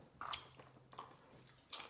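Someone eats crunchy Cheetos Cheddar Jalapeño cheese snacks up close, three quiet crisp bites with soft chewing in between, and no talking.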